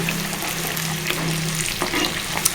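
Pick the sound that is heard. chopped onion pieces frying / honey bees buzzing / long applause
chopped onion pieces frying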